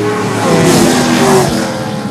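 Late model race cars roaring past at Seekonk Speedway, a loud brief engine howl sweeping by up close and fading, with crowd and track ambience beneath.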